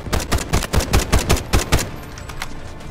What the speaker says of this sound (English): I'm just going to stand right here and shoot the walkway.